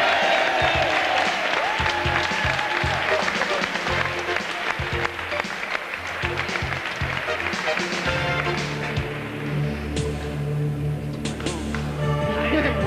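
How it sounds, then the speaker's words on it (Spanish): Studio audience applause for a contestant on a Spanish game show, dense clapping and crowd noise that carries on while music and voices rise underneath toward the end. "un aplauso para José Manuel"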